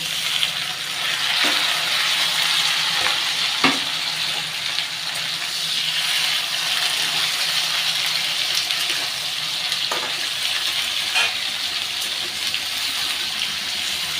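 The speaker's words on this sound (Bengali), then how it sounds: "এবার আমি টমেটো কুচিগুলো দিয়ে দেবো" Potatoes frying in hot oil in a pan with chopped unripe green tomato for a Bengali chorchori, a steady close-up sizzle and crackle with a few faint clinks, no talking.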